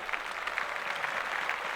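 Applause from a podcast studio audience, a steady wash of many hands clapping at moderate distance, continuous and even throughout with no voices standing out.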